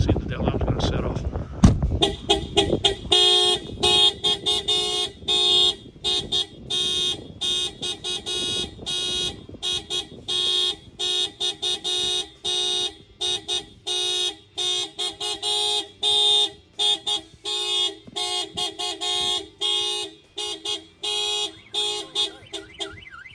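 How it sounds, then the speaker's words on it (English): A truck's car alarm, set off by banging on the window, opens with a few dull knocks, then loops a loud repeating siren pattern of rapid chirps, whoops and honks for about twenty seconds, steady and close. "I'm going to go ahead and bang on the window. You're going to see that the alarm's going to set off."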